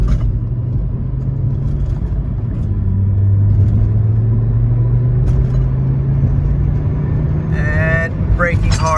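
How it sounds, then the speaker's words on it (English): Volvo P1 car with new 320 mm brake rotors, interior engine rumble with a steady low drone that rises and falls as it drives and slows, and a person speaking near the end. "And braking hard."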